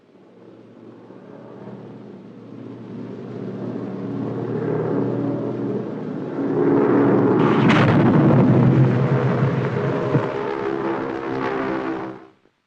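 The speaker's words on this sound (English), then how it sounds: "They didn't think about another war and bombing from the air." Wartime bombing from the air in a 1942 British film: a deep, rumbling roar of explosions builds steadily, swells loudest midway with sharp cracks, then holds before cutting off abruptly.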